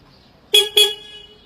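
Two quick, loud horn honks in a row from a 22 hp diesel tractor, the second held slightly longer, sounding close by.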